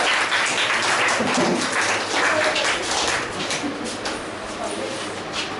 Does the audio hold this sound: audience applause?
yes